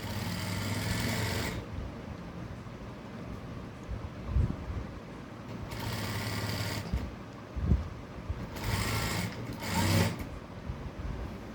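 Domestic sewing machine stitching a blouse, a steady mechanical whir running in several bursts with short pauses between, close and fairly quiet over low background noise.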